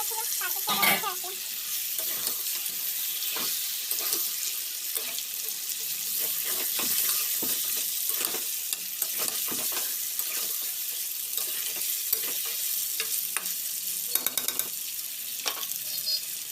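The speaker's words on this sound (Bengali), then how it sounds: "দেখো ভালো রকম তেল ছেড়ে দিয়েছি, এবার এর মধ্যে আমি চিকেনটা দিয়ে দেবো।" Chicken pieces frying in hot oil while being stirred, a continuous close sizzle broken by scraping and clattering stirring strokes, with some watery splashing sounds and no talk.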